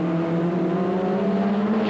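A 1989 Formula Ford 1600 race car accelerates up through the gears on a circuit, its engine note a loud, steady, rising drone with strong harmonics, held close and continuous with no voices.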